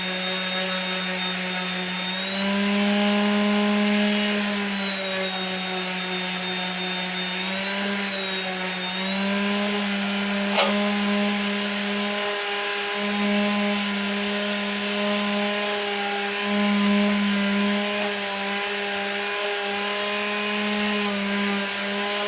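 A power sander runs on wooden ornament pieces, giving a steady, tonal whine with small pitch dips as pressure changes and one sharp click near the middle, with no talk over it.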